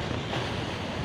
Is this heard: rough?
yes